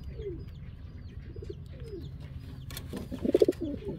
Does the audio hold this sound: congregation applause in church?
no